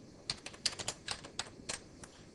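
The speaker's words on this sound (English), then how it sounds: "So I type your email address." Fingers typing an email address on a computer keyboard in an office, a quick run of about a dozen light, crisp key clicks in irregular bursts, close and fairly quiet with no talk.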